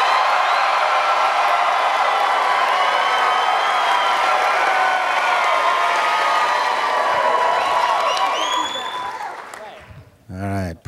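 A large audience claps and cheers loudly for a presenter at a slideshow karaoke event, a dense continuous roar of applause with whoops that fades out near the end.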